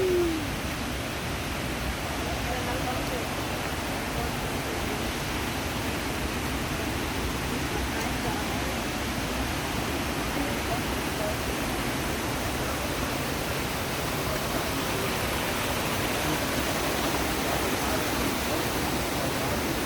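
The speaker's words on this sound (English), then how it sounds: "So here you can hear the water." Krang Suri Falls in Meghalaya gives a constant broadband rush of falling water, steady and fairly loud throughout with no pauses.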